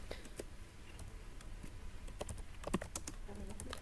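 A command typed on a computer keyboard during Cisco switch configuration, irregular close clicking keystrokes in short bursts, with no talking.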